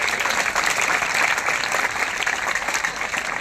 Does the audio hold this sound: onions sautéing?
no